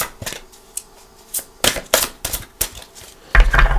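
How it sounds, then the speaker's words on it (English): Rapid bursts of tarot cards being shuffled, several quick riffles with short pauses between, close and crisp, ending in a louder flurry. "let's go ahead and give the Psychic Tarot a few shuffles"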